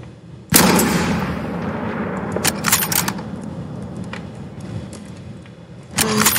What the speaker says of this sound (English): next thing you do is to shoot without losing the range